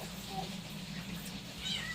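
A cat meows briefly over a steady low hum, with faint voices and background noise around it.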